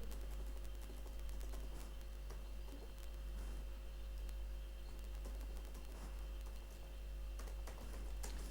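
Quiet computer-keyboard typing while coding, light irregular key clicks in short runs over a steady low electrical hum, close and without speech.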